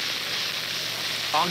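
Fire burns with a steady crackling, sizzling hiss heard alone and fairly close, before a voice briefly cuts in at the very end.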